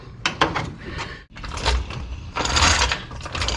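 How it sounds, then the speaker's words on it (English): Metal clanks and ratcheting as 11/16 nuts are pulled from the cross member bolts under a 1963 Chevrolet Bel Air during 4-speed transmission removal, a few close, irregular mechanical clicks and scrapes. "I'm going to pull the nuts off"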